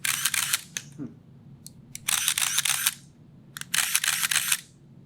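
A Rolleiflex 3000ED film camera shutter fires repeatedly in three bursts of rapid mechanical clicks, close up, with quiet pauses between bursts.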